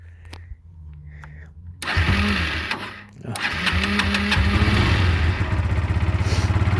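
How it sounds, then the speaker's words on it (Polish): A 2001 Kawasaki EL125 Eliminator motorcycle engine cranks, catches, and settles into a loud, steady idle with a rapid throbbing rhythm; a voice is heard briefly before it starts. "I motocykl chodzi."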